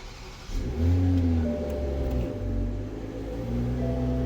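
A 2024 Toyota GR Supra fitted with aftermarket axles cranks and fires up, then settles into a steady, droning idle with a low rumble and a faint whine, nearby and fairly loud.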